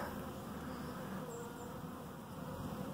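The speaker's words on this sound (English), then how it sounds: "these are mostly dark bees down here, which is what these bees in this hive were, was dark bees" A steady, dense hum of dark bees swarming around a beehive in a bee yard, loud and continuous with no pauses or talk.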